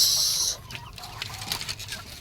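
Farm chickens, among them a blue-feathered bird, cluck and call nearby: a bright, sustained vocal burst at the start, then softer scattered clucks over quiet background noise.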